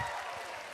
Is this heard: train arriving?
no